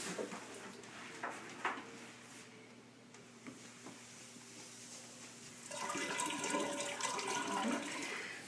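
Water pours into a carboy to top up mead, a quiet room tone at first with faint clinks, then a steady gushing rush of liquid filling the vessel for the last few seconds.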